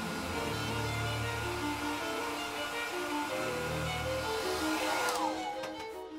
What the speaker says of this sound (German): dass ich es jetzt auf der Hinterseite problemlos föhnen kann